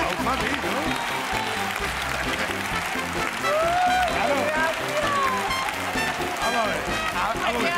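Studio audience on a Spanish television show applauding, a dense continuous wash of clapping with voices talking and calling out over it throughout.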